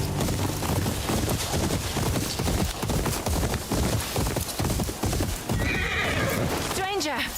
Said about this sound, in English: The happy horse. Look at him. Let's go for a run.